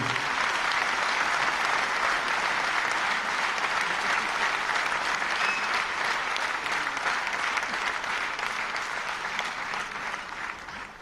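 A large audience at a political gathering in Jaipur's Birla Auditorium gives sustained, loud applause. The clapping holds steady for several seconds, then gradually thins and fades toward the end.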